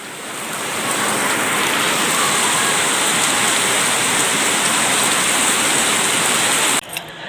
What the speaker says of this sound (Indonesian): Hujan lebat ya